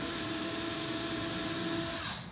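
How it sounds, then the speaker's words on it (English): An electric drill bores a small pilot hole into a thin wooden cross member, with a close, steady high-pitched whir that holds level and then tapers off at the end. "I'm gonna go ahead and drill a small pilot hole"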